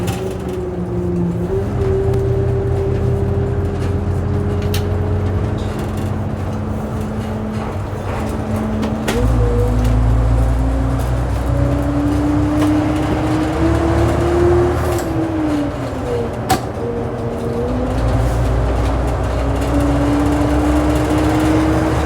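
A 1958 Leyland Atlantean bus engine drones loudly from inside while driving at around 40 mph, its pitch climbing and falling through gear changes, with a steady rumble and occasional knocks.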